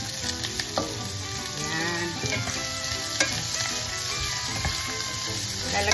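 Carrots sizzle and crackle steadily as they are sautéed in a pan of mixed vegetables, a dense, continuous frying hiss with scattered pops and stirring scrapes, close and fairly loud, with no talking.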